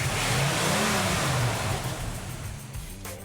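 An older car's engine runs and revs loudly up close, with rising and falling pitch as the throttle is blipped before it settles back down.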